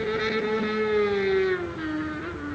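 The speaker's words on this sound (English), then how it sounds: "You can't make that much noise on a motorbike and get away with it." A loud motorbike engine drones steadily near the Wollongong breakwater, its pitch sliding gradually lower as it passes and fades slightly at the end.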